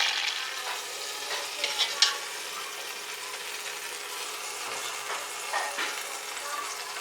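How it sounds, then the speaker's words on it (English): Food browning in a hot pan, with a steady soft sizzle and crackle and a few brief spatters and stirring scrapes throughout. No one talks. "Okay, now I'm browning this side"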